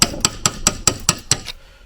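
A metal chisel struck into wood while building a saw horse, seven even, sharp knocks about a quarter second apart, loud and close, then stopping.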